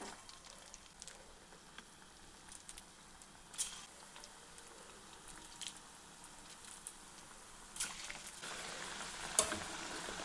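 Kozhikode-style tapioca snack dough, dropped a few pieces at a time into hot oil, fries with a soft, continuous sizzle and light crackling pops, quiet and close.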